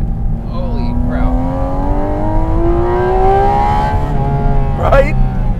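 Loud Porsche Cayman GT4 RS engine revving, heard from inside the car, pitch climbing steadily as it accelerates, with a raspy metallic tone and a brief voice near the end.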